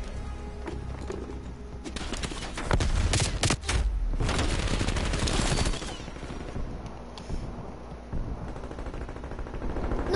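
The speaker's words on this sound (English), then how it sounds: "I got the nail gun." Rapid mechanical gunfire from a nail gun in Call of Duty Cold War, rattling in dense bursts with a louder stretch in the middle, mixed with other game sounds and faint talk.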